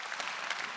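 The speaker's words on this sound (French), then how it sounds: "savourez encore un peu les applaudissements de l'assistance" Audience applause for award recipients at an evening awards ceremony in Wallonia, a brief, even burst of many people clapping, fairly soft and continuous.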